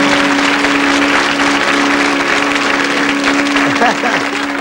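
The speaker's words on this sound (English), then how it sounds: "Give them a round of applause, folks." A TV studio audience on the 1984 game show 3-2-1 applauds the contestants loudly and continuously, with a steady tone running underneath.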